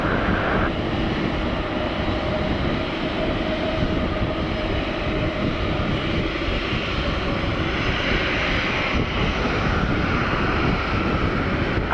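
An Airbus A340-300 jet on takeoff from Amsterdam, a loud, steady roar of engines with broad rumbling noise sustained throughout.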